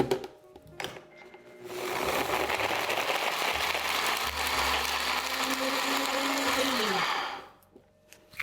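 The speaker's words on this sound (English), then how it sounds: "you're just going to blend this really until it's crumbled pretty small, and you can see the dates are completely blended in with the oats." A blender whirs steadily as it chops dates and oats into small crumbs, running loud and continuous for several seconds before the motor winds down and stops.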